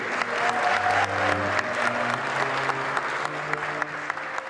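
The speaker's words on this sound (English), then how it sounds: "So perhaps a round of applause for Mr. and Mrs. Horan." Guests at a wedding ceremony applaud the newly married couple. The clapping is steady and fairly distant, with faint crowd murmur and an occasional voice underneath.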